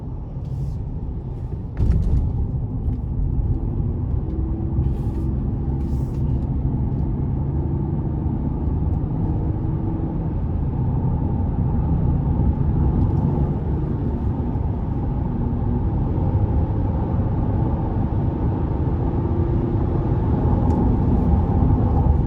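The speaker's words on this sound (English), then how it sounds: "it's surprisingly quiet in the cabin as I'm driving" Cabin of a 2021 Chevrolet Colorado LT Redline pickup with a 3.6 engine cruising on an interstate, a steady low road and engine rumble with soft tire and wind hiss, even and uninterrupted throughout.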